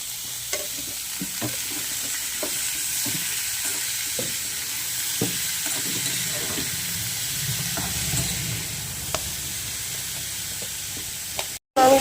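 Five or six kinds of mixed vegetables fry in hot oil, a steady close sizzle punctuated by repeated sharp clicks and scrapes of a spatula stirring, ending with a brief louder bump.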